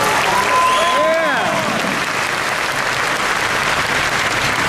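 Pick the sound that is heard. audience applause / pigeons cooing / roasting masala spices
audience applause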